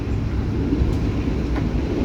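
Steady, loud rumble of a Taksaka stainless steel new generation executive train, a continuous broadband roar of a moving rail car with no break across the whole stretch.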